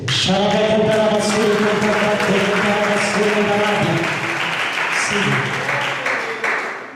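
A church congregation applauding at an evangelical gathering, a steady wash of clapping that runs the whole time beneath a voice and musical tones, easing off slightly toward the end.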